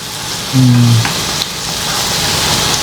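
Masala sautés for a crab curry in a pan, with a steady, loud, close hiss of sizzling oil that holds evenly throughout, broken by a brief low hum and a couple of faint clicks.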